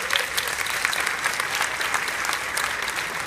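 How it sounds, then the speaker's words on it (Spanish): Sustained applause from an audience at a live event on stage, a dense even wash of clapping throughout without talk. "Un aplauso para Alejandra, por favor."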